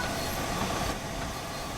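An LMS Fowler 4F steam locomotive slows in the Train Sim World video game, giving a steady, loud rolling rumble with faint rail clatter and a slight hiss, easing off partway through.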